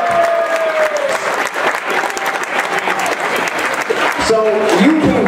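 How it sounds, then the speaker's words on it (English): A crowd cheers and applauds loudly and steadily for Amber Ramirez at a Razorback women's basketball NCAA Tournament selection celebration, with voices and whoops mixed into the ovation. "Ladies and gentlemen, having a round of applause for Amber Ramirez."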